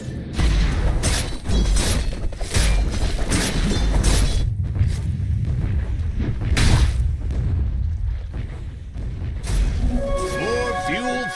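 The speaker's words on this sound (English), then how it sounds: "Dire's bottom tower has shattered to little pieces." A tower is destroyed in a Dota 2 match between HEROIC and Team Liquid. Loud, dense in-game booms and crashes pile up with bursts of impact noise, and commentators talk over the battle.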